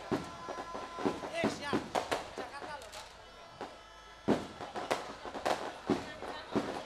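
New Year fireworks bang and crackle in irregular bursts, some sharp and close, while people chatter loudly over them.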